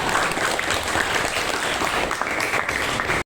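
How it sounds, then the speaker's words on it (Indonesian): A class or training group claps for group three after a presentation, brisk steady applause from a roomful of people lasting about three seconds before stopping abruptly. "beri tepuk tangan buat kelompok tiga"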